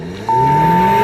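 A Hot Wheels 2018 Chevy Camaro toy car launches down a racing track, a sudden loud start followed by a steady rising whine of wheels on the track, with no voices.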